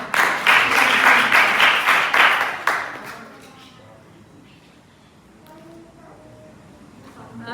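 An audience claps together in a programming class, a burst of dense applause lasting about three seconds before fading out, followed by quiet talking.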